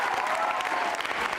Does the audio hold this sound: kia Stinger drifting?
no